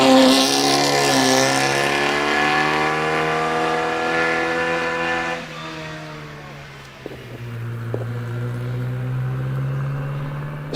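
A loud vintage MG sports car engine revs hard and high, well over 6,000 rpm, at the Prescott hill climb, its pitch sweeping upward and then dropping as it shifts, continuous and close.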